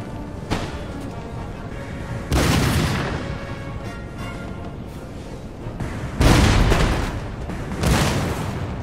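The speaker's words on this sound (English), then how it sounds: "Plenty of shots going on." Musket volleys crack out in Empire: Total War, several loud broadband bursts of massed fire spaced a few seconds apart over steady battlefield noise.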